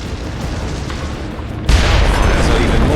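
A sudden loud blast from an explosion in the video game Dungeon Siege 3, cutting in abruptly after a quieter stretch and settling into a sustained, rumbling roar.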